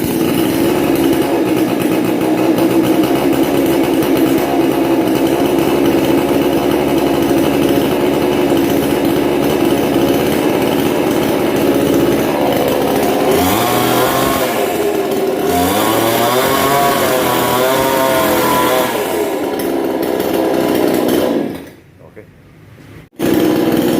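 Chainsaw pulled to start and then running, a loud continuous two-stroke buzz that rises and wavers before cutting off near the end, with people talking over it.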